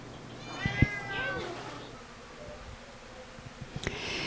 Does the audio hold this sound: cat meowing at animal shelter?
yes